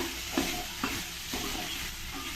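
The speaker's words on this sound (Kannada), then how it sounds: "ಇದನ್ನು ಒಂದು ಸ್ವಲ್ಪ ಚೆನ್ನಾಗಿ ಎಣ್ಣೆಯಲ್ಲಿ ಫ್ರೈ ಮಾಡ್ಕೊಳ್ಳೋಣ ಒಂದು ಎರಡು ನಿಮಿಷ" Hyacinth beans frying in oil for a sambar, a continuous close sizzle broken by three soft stirring knocks of a spoon against the pan.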